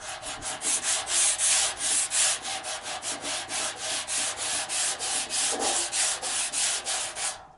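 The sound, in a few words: sanding a car body panel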